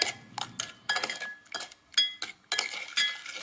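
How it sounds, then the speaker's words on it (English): Oats, flour and sugar for a vegan apple crumble being stirred in a bowl, heard as a run of close, bright clinks and scrapes of utensil against dish in uneven bursts with short pauses, no talking. "And then we're gonna mix it up."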